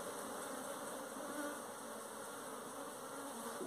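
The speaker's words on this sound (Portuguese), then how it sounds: "mostrar pra vocês o enxame" Apis honey bee swarm inside a hive box, a dense continuous buzzing drone of many bees, close and steady throughout, with no talking.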